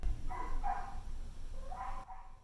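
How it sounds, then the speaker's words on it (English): A small dog named Olive gives a few faint, short barks in the background, spaced out over a couple of seconds in a quiet room. "I don't know if you can hear little Olive barking in the background"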